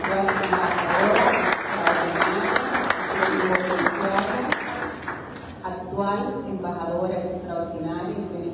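An audience at a colloquium marking the centenary of poet Victor Villegas bursts into sustained, dense applause for about five seconds, then the clapping drops away as a voice begins speaking over a faint hall murmur.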